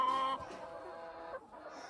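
A hen lets out a few quick clucks close by at a strawberry farm in Kathmandu, followed by softer, quieter clucking.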